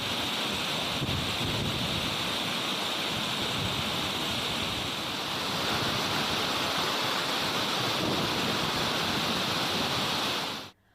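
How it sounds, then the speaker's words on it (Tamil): Megamalai falls gushing after heavy rain, a dense, steady roar of rushing water that holds constant and loud for about ten seconds before cutting off abruptly. "மேகமலை அருவியில் தண்ணீர் ஆர்ப்பரித்து கொட்டுகிறது"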